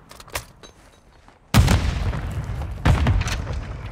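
A frag grenade detonates in Call of Duty DMZ with a sudden loud boom, followed by rolling rumble and a second close blast; faint scattered gunfire pops precede it.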